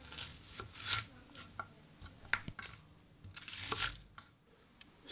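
Sharp knife making fine vertical cuts into an onion half on a cutting board while preparing devil sauce, giving soft scattered taps and light rasping strokes at an irregular pace, close and fairly quiet.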